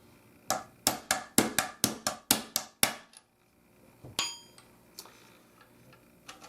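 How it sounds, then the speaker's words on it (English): Steel punch and hammer drive out the trigger pin of a Standard/Beta pattern muzzleloader, about nine sharp metallic taps in quick even rhythm, close and loud, followed by a pause and a few scattered lighter knocks. "Now I can go ahead and knock out the trigger pin and remove the trigger as well."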